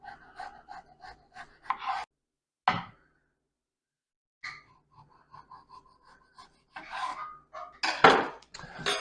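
A potato sliced by hand for homemade fries, a few isolated close knife chops and scrapes separated by near-silent gaps, with a clustered burst of louder cutting and board knocks near the end, no talking.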